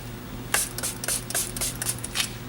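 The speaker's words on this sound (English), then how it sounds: "I'm going to spray it again." A spray bottle fires a quick series of sharp hissing spritzes, around a dozen short bursts in an irregular rhythm, close and clear.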